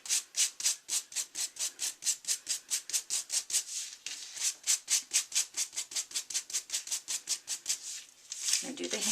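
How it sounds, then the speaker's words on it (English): Embossed cardstock being lightly sanded with a sanding block, close rhythmic back-and-forth scratchy rubs in quick even strokes, about four per second, running steadily with a brief break near the end. "So we're just going to lightly sand that."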